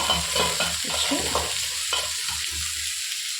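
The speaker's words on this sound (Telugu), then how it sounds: "ఇప్పుడు దీన్ని మిక్స్ చేస్తున్నాను" A spoon stirs chili powder into banana curry in a sizzling pan, giving several close scraping strokes over a soft frying hiss, with no talking.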